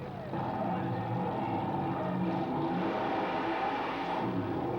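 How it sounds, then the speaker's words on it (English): Drag racing cars with supercharged engines, including a 511 cubic inch aluminum Chevrolet racing engine, roar down a drag strip as a sustained, loud engine drone, with a voice talking over it. "The craziest cars you'll ever see go down a drag strip."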